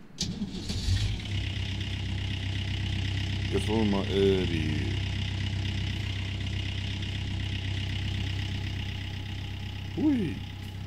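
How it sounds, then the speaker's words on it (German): A large excavator's engine in the Gold Rush video game runs at a steady, loud drone, rumbling without break through the whole stretch while someone talks briefly over it. "erstmal Motor an."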